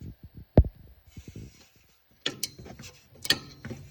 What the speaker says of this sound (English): You'll just unscrew it until the sliding pin comes all the way out.